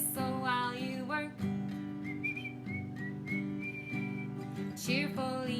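Bright, steady whistled melody of a Disney song, carried over piano and light accompaniment in a cheerful, bouncing rhythm.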